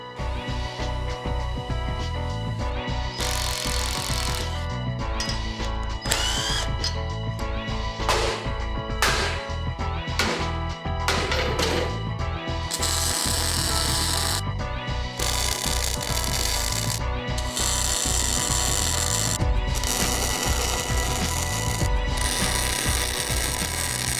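Power tools and hand tools at work removing the bull bar from a Nissan GQ Patrol, with loud whirring bursts, ratcheting clicks and metallic clanks in an irregular, continuous sequence close by.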